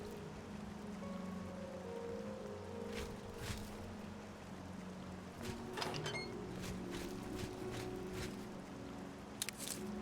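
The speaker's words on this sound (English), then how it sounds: "The sound of the rain from inside, that's really soothing." Steady rain in The Elder Scrolls IV: Oblivion patters in a muffled wash, heard from indoors, with occasional soft taps and drips rising briefly above the hiss.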